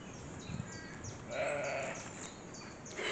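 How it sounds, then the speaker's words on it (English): Sheep bleat repeatedly at a moderate distance near Sheriff Hutton Castle, overlapping calls rising and falling against a steady outdoor background. "I love the sound of the sheep"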